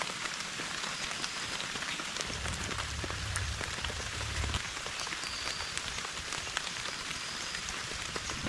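Steady rain pours onto a rainforest shelter site, a dense continuous hiss of drops on leaves and surfaces with a brief low rumble partway through, close and even throughout with no voices.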